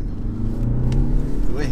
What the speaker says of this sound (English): Even this little 2-litre diesel has enough torque to chuck us sideways a bit.